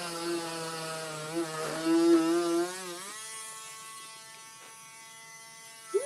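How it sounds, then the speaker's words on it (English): A Chicago Electric handheld drill from Harbor Freight whines with a steady motor tone, shifting pitch partway through as the speed changes, running close and alone. "I'm going to take my handheld drill"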